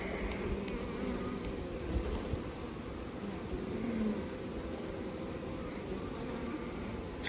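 Honey bees buzzing at an open hive during a beekeeping split, a low continuous hum of many insects close by, steady and fairly quiet with slight swells, no voices.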